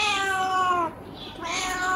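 A street cat meows up close, one drawn-out harmonic cry, a brief pause, then another plaintive meow beginning.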